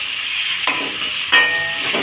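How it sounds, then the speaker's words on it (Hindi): Onions and potatoes frying in a generous amount of oil in an Indian home kitchen, giving a steady close sizzle with two sharper bursts of crackle as the pan is stirred. "फिर प्याज आलू दोनों मिलकर डाल दिया, तेल भी थोड़ा ज़्यादा डाला क्योंकि राइस बनाना है।"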